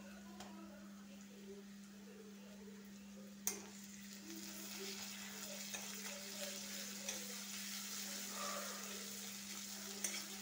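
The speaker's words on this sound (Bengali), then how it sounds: "দিয়ে খানিকক্ষণ কষিয়ে নেব যাতে আদা রসুনের কাঁচা গন্ধটা চলে যায়" Ginger garlic paste fries in a pan for a fish curry, a quiet continuous sizzle with stirring scrapes, a sharp utensil knock near the start and another at the end, over a steady low hum.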